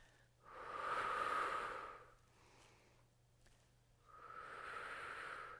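Two long, audible breaths during a Pilates mat resistance band exercise, a rushing exhale followed by a quiet gap and another drawn-out breath, close and fairly soft with no talking.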